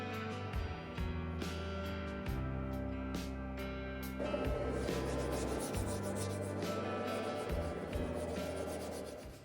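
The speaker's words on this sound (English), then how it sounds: "I've got the majority of it sanded down the way it needs to be" Sanding a jet ski hull, prepped for paint and a top coat: a steady abrasive rubbing runs the whole time, loud and close, with shifting strokes and no talking.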